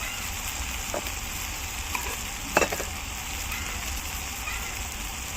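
Spices frying in oil for a village-style chicken curry cooked over a wood-fired clay stove, a steady sizzle and crackle with a brief louder stir near the middle.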